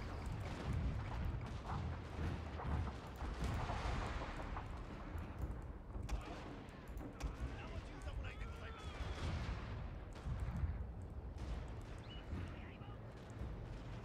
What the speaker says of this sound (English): we have the Hodjo hand mortars are getting some shots off